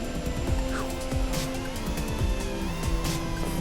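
A Vortex 180 FPV racing quadcopter flies outdoors near a house, its motors whining in a continuous high buzz that rises and falls in pitch as it passes, with Doppler-like swoops and a steady loud presence.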